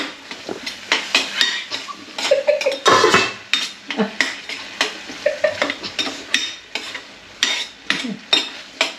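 Vegetable curry with turmeric and green chili stirred in a pan, with repeated spoon scrapes and knocks against the vessel in an uneven rhythm, loud and close over a light sizzle.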